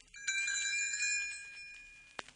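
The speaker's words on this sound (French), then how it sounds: "Elle fera tinter ses petites cloches comme ceci." Tinker Bell's little bells ring out as a single bright, shimmering chime that tinkles and slowly fades, clear and close with no other sound, ending with a soft tap.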